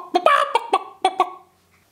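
A voice imitates a toy hen clucking in a toy farm play scene, giving about six short, close, bouncy cluck-like bursts in quick succession before falling silent.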